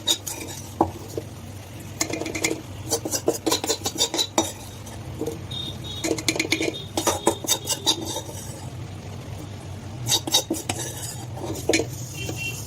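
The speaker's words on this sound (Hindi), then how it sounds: "ये देखिए, अब हम इसमें ये तड़का डालेंगे।" Metal utensils clatter and scrape against a sambar pot while hot tempering oil poured in faintly sizzles underneath, irregular clinks close by, no one speaking.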